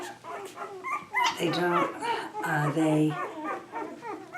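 Five-day-old puppies whimper and yip in short, high cries, close by and mixed with a person talking over them.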